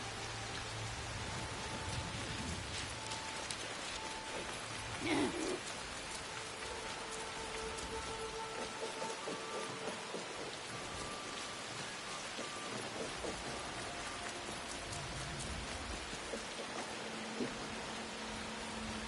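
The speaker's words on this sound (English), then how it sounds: "This has some of the better rain effects I've seen. They really nail the rainy atmosphere." Steady rainfall in the video game Assassin's Creed Shadows, a dense continuous hiss of drops on surfaces with a faint distant rumble, heard alone without talking.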